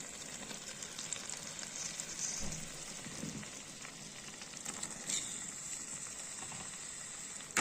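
Prawns sizzling steadily in hot oil for a prawn pickle, a dense even hiss with a few soft stirring scrapes, close and moderately loud with no talking.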